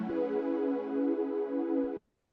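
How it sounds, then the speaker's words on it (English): A bright, buzzy trance supersaw pad layered on an organ pad holds a thick sustained chord for two seconds, then cuts off abruptly into silence. "it's just a trance like super saw pad layered on an organ pad"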